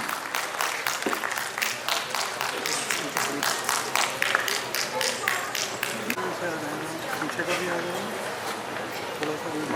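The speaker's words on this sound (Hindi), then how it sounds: "Please put your hands together for R.K." Audience applause at a formal ceremony with a district judge, steady brisk clapping from a room of people lasting the whole stretch, with some voices underneath.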